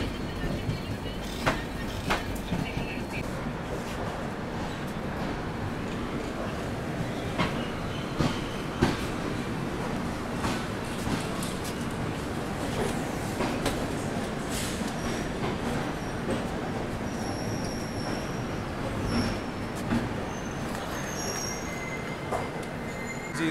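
Rajasthan Humsafar Express passenger train running toward Delhi, heard from on board as a steady, loud rumble with wheel clatter and occasional sharp squeals and clicks throughout, no talk.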